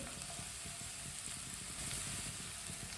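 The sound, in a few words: finely chopped cabbage added to pan, sizzling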